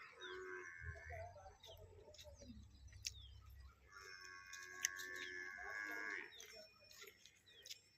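Cattle and buffaloes lowing in long drawn moos, a couple of calls a few metres off, with birds chirping and cooing in the background of a quiet rural village setting.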